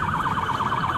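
A police siren wails loudly and close, its rapid rising-and-falling pitch cycling steadily without pause.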